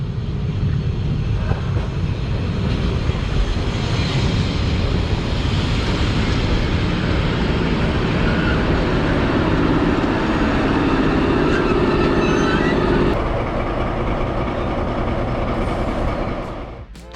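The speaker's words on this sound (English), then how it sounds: "here is my train coming in for the next section of the route" Harz narrow gauge heritage train with a Harz Camel locomotive arriving at a station near Quedlinburg, a sustained rumbling roll of wheels and carriages, loud and close throughout with clatter and a brief tonal squeal.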